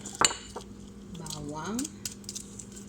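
A utensil stirs lemon juice and garlic in a bowl for Arabic roast chicken garlic sauce, with close clinks and scrapes of metal against the dish and a soft stirring swish in the middle, under faint background sounds.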